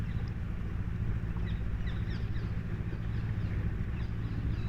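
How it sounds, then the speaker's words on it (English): Narrowboat engine running on the tidal Thames in London, a steady low throbbing hum close by, continuous and even with faint higher background texture and no talk. "It's almost completely silent, apart from the sound of our engine behind me."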